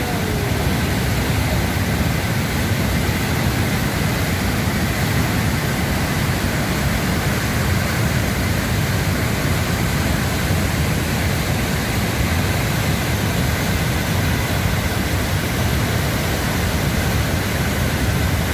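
Kundal Shahi waterfall in the Neelam Valley of Azad Kashmir pours with a steady, dense, broadband roar, loud and unbroken throughout, close enough to drown out other sounds.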